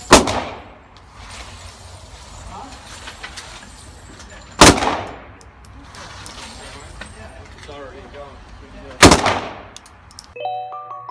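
Three loud, sharp pistol shots from a Taurus PT111 G2 at a shooting range, spaced about four seconds apart, each with a ringing decay, over steady background noise and murmuring voices.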